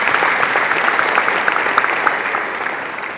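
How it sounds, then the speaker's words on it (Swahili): Broad, steady applause from a crowd of mourners at a church funeral service, with dense clapping filling the whole stretch without a break. "tunaomba tumpigie makofi mengi sana kwa Yesu."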